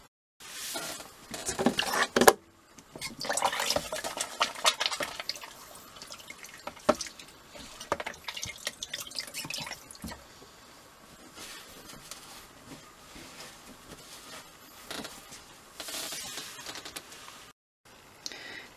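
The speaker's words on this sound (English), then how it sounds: "And refilling the water dispenser for hand washing." Water poured from a jug into a hand-washing dispenser inside a winterized RV, heard as irregular splashing and trickling with small knocks and gurgles, fairly close and steady for most of the stretch, with no one talking.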